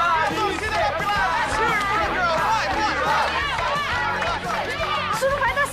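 A crowd of onlookers cheers and shouts for Pilar at a schoolyard fight, a dense, continuous clamor of excited voices, loud and close, with no letup.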